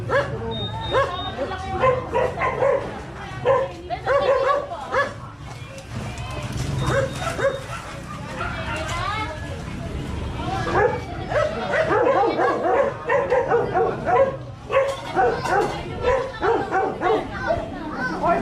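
A dog barks and yips repeatedly, close by, with people talking over and between the barks.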